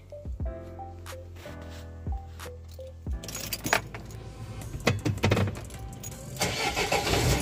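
An Opel Vivaro van with a newly replaced battery cranks and fires up after a few jangles of keys, then settles into a loud, rough engine running close by for several seconds.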